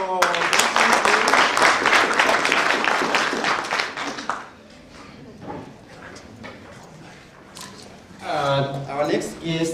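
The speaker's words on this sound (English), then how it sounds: "A little clap for" Audience clapping for an arriving guest at a university college celebration day, a burst of brisk applause that tapers off after a few seconds, followed by someone speaking.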